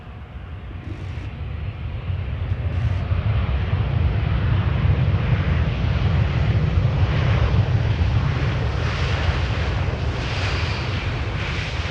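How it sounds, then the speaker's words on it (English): An Airbus A321 passing by at Amsterdam Schiphol's Polderbaan runway: deep jet engine rumble swells over the first couple of seconds, then holds loud and sustained with a low-heavy roar. "The airplane you are now looking at is 12 years old and had its first flight in June 2010, A321."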